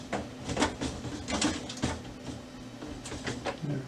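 A belt unit slides and bumps into a Brother HL-3170 laser printer during a repair, with a series of soft plastic scrapes, knocks and clicks at close range and no talking.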